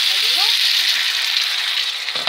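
Chicken fillet fritter batter sizzles steadily in a hot frying pan, a loud, close, continuous crackle with a brief clatter near the end.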